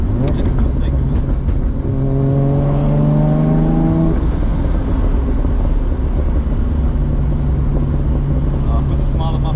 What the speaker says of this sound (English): I forgot what it feels like to get on full boost in this car actually, so maybe I'll just do it.